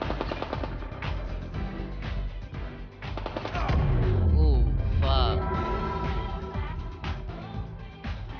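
Gunfire in the horror shooter Get Even, with rapid bursts of shots crackling over a dense, loud game soundscape and someone talking throughout.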